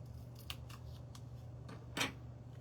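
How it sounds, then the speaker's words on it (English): Scissors snip through paper several times in quick, quiet cuts, followed by one louder crisp snip, over a low steady hum. "take my scissors,"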